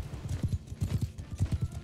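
Horses gallop in Mount and Blade, steady rhythmic hoofbeats thudding in quick clustered groups, close and prominent without speech.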